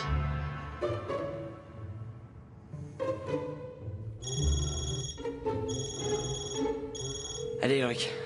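A telephone rings in short repeated bursts of a bright electronic tone over animated-series dialogue, with people talking throughout.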